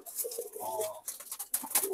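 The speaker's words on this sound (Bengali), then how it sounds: "এগুলো হলো মূলত সাপচিলা নর কবুতর।" Sapchila male pigeons coo close by in a loft, soft throaty warbling calls with a few brief rustles and clicks, no one speaking.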